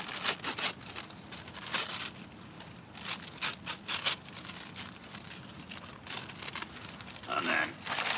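Parchment paper crinkles and tears in a short, irregular run of crackly rustling bursts while lining a mess tin for meatloaf, with a voice talking over it.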